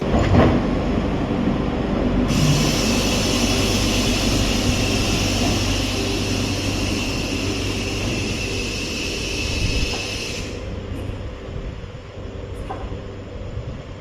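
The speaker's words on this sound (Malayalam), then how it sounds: "ഹൈഡ്രജൻ ഊർജ്ജത്തിൽ പ്രവർത്തിക്കുന്ന രാജ്യത്തെ ആദ്യ ട്രെയിൻ വിജയകരമായി പരീക്ഷിച്ചു" A hydrogen-powered train on a trial run at the Integral Coach Factory in Chennai runs steadily past with a loud, continuous rumble and a high, whining tone that holds for several seconds before fading.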